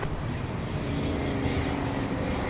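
Airliners taking off and landing on the north runways at LAX create a steady, broad jet engine roar that holds even and moderately loud throughout, with no talking.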